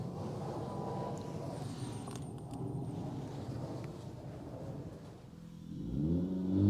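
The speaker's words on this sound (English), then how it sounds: "There's that loud car." A loud car passes outside a garage where a Nissan Frontier is being worked on. The low engine rumble builds and swells toward the end as the car drives by.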